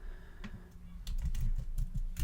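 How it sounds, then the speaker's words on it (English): Computer keyboard typing while writing an SEO blog post: soft, irregular keystrokes, sparse at first and then a faster, denser run of clicks, fairly close and with no talk over them. "going to start typing it in"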